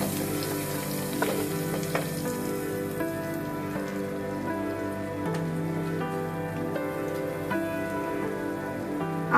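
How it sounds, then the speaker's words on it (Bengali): Spice mix of turmeric, salt and chili powder frying in a pan for an egg dish, a steady crackling sizzle with a sustained tonal hum underneath and a few soft knocks, even throughout, no voices. "লবণ 1 চামচ, মরিচ গুঁড়ো 1/2 চা চামচ দিয়ে মশলাটাকে আমি মিনিট খানিকের মতো ভেজে নিব।"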